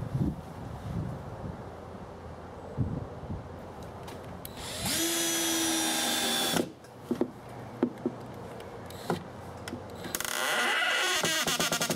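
A power drill drives a screw into wood while a gaming table is being built, whirring in a steady burst of a couple of seconds, then later a second rising whine, with short knocks and handling noises between them.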